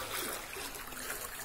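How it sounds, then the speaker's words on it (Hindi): Rain-fed drain water pours into a mosque in Barkas, Hyderabad, a steady faint rushing wash of flowing water with no voices. "यहाँ पर पूरा मोहरी का पानी घुस चुका है जो बरसात की तरफ से आया है"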